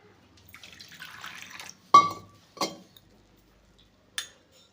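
Water is splashed into a bowl of yogurt batter for Mangalore goli baje, several short sharp splashes and clinks separated by quiet pauses, with no talk.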